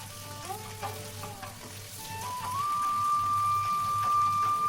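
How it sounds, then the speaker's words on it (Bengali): Dried fish (shutki) fries in a pan with a steady close sizzle and occasional stirring clinks, accompanied by a faint continuous tone in the background. "এখন দিয়ে দেবো শুটকি তো এখন ভালো করে ভেজে নিবো"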